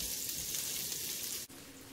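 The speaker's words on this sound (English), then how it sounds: "my slowly rendering bacon, you guys can see it's just slowly bubbling out" Bacon fat bubbles and sizzles steadily in a pan with chopped asparagus, a continuous close hiss that cuts off for an instant near the end before resuming.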